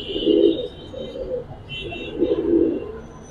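Giribaz and coloured pigeons cooing inside a loft, two rounded low coos rising and fading a couple of seconds apart, fairly close, with faint higher chirps above and no talk.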